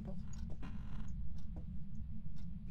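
In the Phasmophobia ghost-hunting game, a door creaks open slowly with a few drawn-out groans and clicks over a constant low rumble, with no talking.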